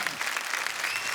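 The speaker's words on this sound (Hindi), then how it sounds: "प्लीज एक बार अर्चना जी के लिए जोरदार तालियां" Studio audience applause on a comedy talk show, a dense and continuous patter of many hands clapping at moderate loudness with no voices over it.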